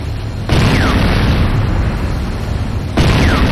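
A Nod power plant blows up in Command & Conquer Renegade: two loud, close booming blasts about two and a half seconds apart, each with a rolling rumble, and no talk.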